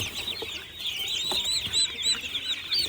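Rapid chirpy clucking and peeping from several young turkeys, fairly close and continuous, with a steady background hiss.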